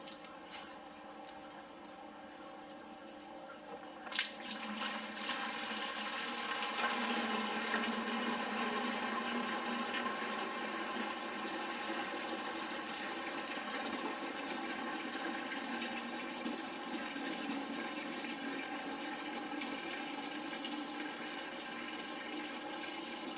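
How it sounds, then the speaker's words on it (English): Water siphoned out of a Fluval FX6 aquarium canister filter during cleaning, a steady, continuous rushing and gurgling flow that holds at the same level throughout, with a brief knock near the start. "I'm going to go dump this bucket and siphon some more water out."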